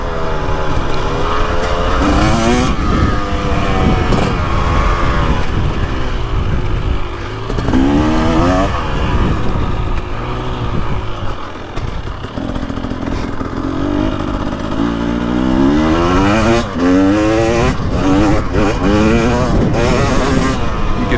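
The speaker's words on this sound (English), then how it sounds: "It just continues to rev. That's 4th gear, trying to keep the front end down in map 2." A 2023 KTM 300XC two-stroke dirt bike revs hard in 4th gear on engine map 2, a loud, close engine that climbs and drops in pitch with repeated throttle surges under wind rush.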